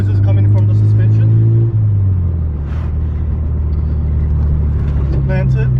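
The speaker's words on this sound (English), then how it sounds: "the car's running. It's driving. It's shifting gears. It's revving." Mazda RX-7 FD rotary engine driving on the street, a loud low drone that climbs in revs, drops at a gear shift, then builds again, with faint voices over it.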